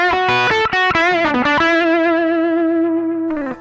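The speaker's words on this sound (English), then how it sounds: "by backing up from the volume there, we get some nice sort of overdriven tones that are less extreme" An overdriven electric guitar through a treble booster, guitar volume backed off, plays a quick run of notes, then holds one long sustained, buzzing tone, loud and up close.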